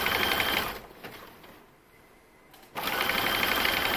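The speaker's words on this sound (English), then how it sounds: "A lot of seamstresses prefer attaching their elastic on a regular sewing machine" A regular sewing machine stitching elastic onto a swimsuit edge hums steadily and loudly at close range, slows to a near stop, then starts again at full speed.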